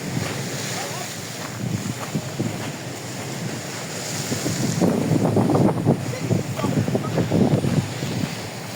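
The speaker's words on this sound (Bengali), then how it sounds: "এত সুন্দর সমুদ্র" Steady surf washing along a beach in Malaysia, with wind buffeting the microphone and occasional faint voices in the background.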